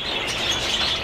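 Birds in an aviary chirp and tweet in a steady, dense chorus of small calls that carries at moderate volume throughout, with no talking.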